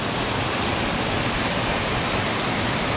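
Steady, dense roar of a waterfall on the Otanazawa stream in the Minami Alps, a broad continuous rush of falling water filling the whole three seconds at an even, close level with no voices.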